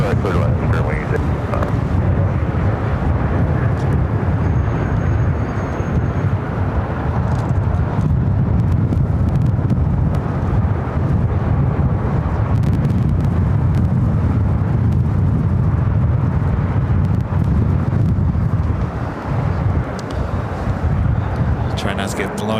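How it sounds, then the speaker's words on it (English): An American Airlines A321neo arriving from Philadelphia lands at LAX in extreme wind, a steady loud roar of engine and gusting wind buffeting the microphone throughout. "That was American Airlines flight 2408 coming up from Philadelphia in an A321 Neo."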